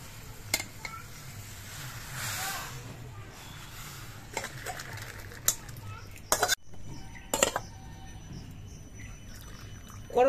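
Water drains from steamed karamcha fruit in a kitchen, a soft hissing pour joined by sharp clinks and knocks of metal pots and utensils.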